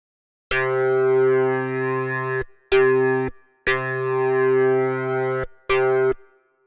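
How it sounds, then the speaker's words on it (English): A ship's horn sounds signal Charlie: four loud, steady tonal blasts in a long-short-long-short pattern, each ending sharply with brief gaps between them, and no talking. "give the signal Charlie as 1 long blast, 1 short blast, then 1 long blast, then 1 short blast, which is Morse code for Charlie"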